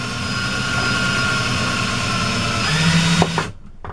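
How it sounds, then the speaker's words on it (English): A loud electric drill twisting copper wire whirs steadily at close range for about three seconds, then cuts off abruptly into near silence. "I'm going to turn on my drill."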